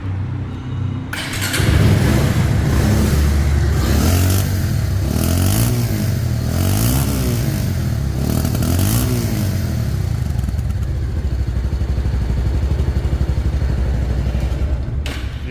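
A 2019 Bajaj Pulsar double disc motorcycle engine running close by, a loud steady idle with a throbbing exhaust note and a few rising revs near the start, heard alone without talk.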